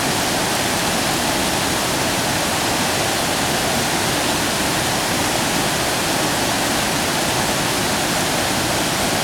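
River water rushes steadily and loudly during a river crossing, a dense, unbroken roar of flowing water filling the whole scene with no voices.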